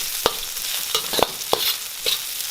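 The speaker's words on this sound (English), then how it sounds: "Then goes our ginger. And we want to stir fry that until we start to smell the fragrance." Ginger stir-fried in a wok for a beef dish, a crackling sizzle punctuated by five or six sharp spatula strikes and scrapes against the metal, close and fairly loud.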